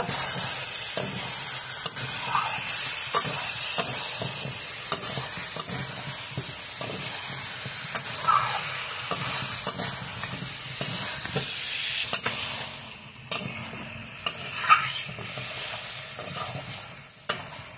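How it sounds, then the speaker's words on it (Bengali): Chicken and papaya sautéed in a pan for a vegetable chicken curry, with loud continuous sizzling and steam hiss and repeated scraping stirs close by, easing slightly toward the end, no talking. "পেঁপের সঙ্গে মাংসটা এখন কিছু সময় কষিয়ে নেব।"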